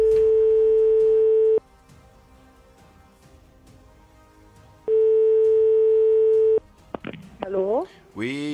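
Telephone ringback tone on an outgoing call placed live during a broadcast prize draw: two long, steady electronic tones separated by a few seconds of silence, then a voice answers at the end.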